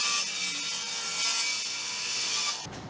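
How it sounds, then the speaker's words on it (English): A table saw rips through a clamped wooden board with a loud, harsh, continuous whine for almost three seconds, then the cut ends abruptly and only a low hum remains. "we'll run it across the table saw and cut that off"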